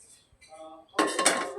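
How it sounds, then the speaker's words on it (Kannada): A metal frying pan set down on a kitchen stove, a sharp clanking clatter of metal on metal following quieter kitchen handling sounds. "ಒಂದು ಬಾಣಲೆನ ಒಲೆ ಮೇಲೆ ಇಡೋಣ"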